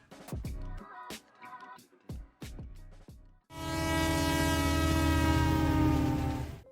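A powerful diesel locomotive sounds a long, loud, sustained multi-tone horn that holds for several seconds, after a stretch of broken, clattering rail and engine noise.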